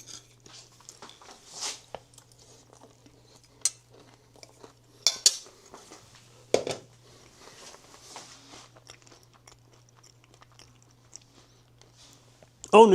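Someone munching on food during a livestream, with sporadic close crunchy bites and chewing, a few louder clinks like cutlery, and quiet stretches between, over a low steady hum.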